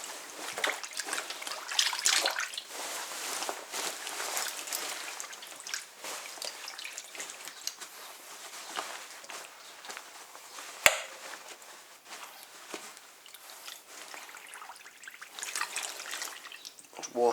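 An army jacket plunges into a tub of warm dye water, giving a soft wet drip and trickle with small splashes and sloshing near the mic, and one sharp tap partway through.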